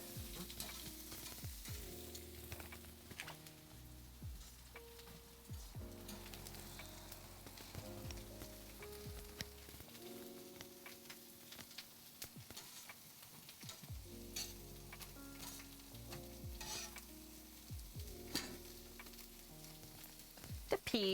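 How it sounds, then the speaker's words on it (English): Potatoes crisp over a charcoal grill with a steady, close sizzle and occasional stirring clatter, frying sounds running continuously without talk. "Those potatoes are crisping up real nice."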